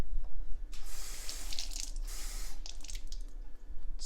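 Tap water runs into a pot for cooking rice, a hissing stream that surges and splashes in uneven bursts, heard close with no talking.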